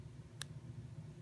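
A framelock folding knife snaps shut with one sharp, close metallic click, standing alone over a low steady background hum.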